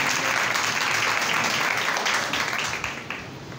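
A church congregation applauds the Lord in loud, sustained clapping that fills the room and fades slightly toward the end, with no distinct voices above it.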